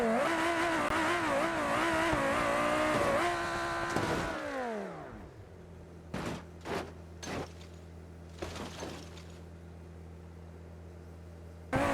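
A high-powered rally car in BeamNG on a small rally circuit, its engine revving hard with shifting pitch before decelerating and dropping to a low idle hum, followed by several short bursts of throttle blips or impacts.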